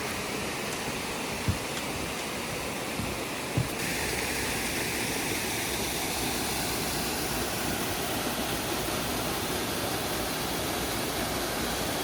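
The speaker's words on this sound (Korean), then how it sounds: "폭포라고 이름을 붙이기는 규모가 좀 작지만 아름답기는 국내 어느 폭포보다 더 아름다워요." Steady broadband rush of a small waterfall in Sogeumgang Valley on Mt. Odaesan, a continuous near, even roar with no talk, with a couple of faint knocks early on.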